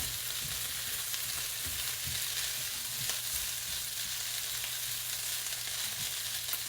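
Pepper steak ingredients sizzling steadily in a hot frying pan, with soft scraping and tossing knocks over the constant fry, close and moderately loud, no talk.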